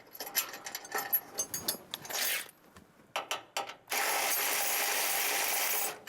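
Ratcheting wrench snugging plow bracket bolts on a vehicle, with quick clicking bursts at first and then a sustained steady ratchet run close by.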